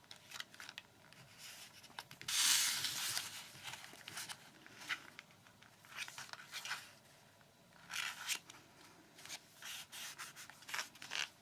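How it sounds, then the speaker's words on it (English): Paper being scrubbed and rubbed for a planner craft project, giving soft, scratchy bursts in irregular strokes, loudest in one early burst and recurring faintly throughout, close by with no talking. "scrubbing now"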